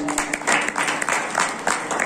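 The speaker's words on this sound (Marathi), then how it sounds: "टाळी वाजली पाहिजे." Audience clapping at a devotional kirtan gathering, a short burst of scattered hand claps heard at moderate distance over a background murmur.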